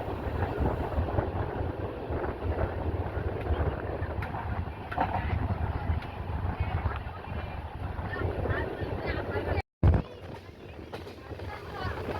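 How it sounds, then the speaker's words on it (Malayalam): Aboard the Mysuru Express as it runs through Kadakkavur railway station without stopping, a steady rumbling roar of the moving train with wind buffeting, broken by a brief dropout near the end. "കടക്കാവൂർ റെയിൽവേ സ്റ്റേഷനിൽ നിന്ന് ട്രെയിൻ സ്കിപ്പ് ചെയ്യുകയാണ്"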